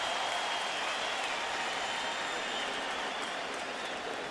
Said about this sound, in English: Bell comes out to a round of applause